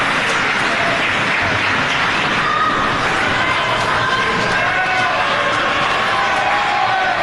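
Wrestling crowd in South Philadelphia roaring and cheering continuously at a live match, a dense loud wash of voices throughout with commentary running underneath.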